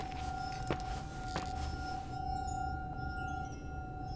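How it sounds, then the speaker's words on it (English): In The Suicide of Rachel Foster, faint glassy clinks ring out twice over a steady ambient hum and tonal drone, brief and slightly distant. "Like a clinking."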